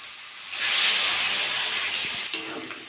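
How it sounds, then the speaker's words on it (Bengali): Water poured into a hot pan of spiced potato and dried fish gravy sets off a sudden loud hiss and sizzle that holds steady for about two seconds, then eases, with no voice. "আমি এবার জল দিয়ে দেবো।"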